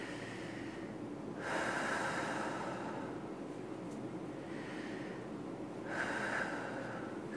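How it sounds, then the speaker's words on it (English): Two deep, audible inhales for singing, each a long airy draw of breath close to the microphone, spaced several seconds apart over steady background hiss. "So the breath action looks like this."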